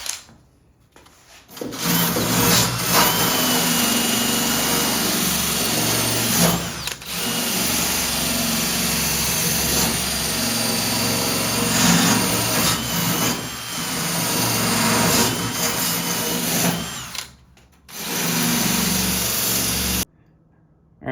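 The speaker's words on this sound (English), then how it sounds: "So I'm just gonna polish this edge up, make everything a little easier to see" A loud, steady power tool grinds and whirs polishing a metal edge on a 1957 Karmann Ghia for about twenty seconds, with a couple of brief pauses where it stops and restarts.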